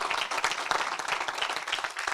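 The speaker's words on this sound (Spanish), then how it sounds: "Denle un aplauso a Dios." Church congregation applauding at a service, a dense steady patter of many hands clapping together, fairly loud and even throughout with no pauses.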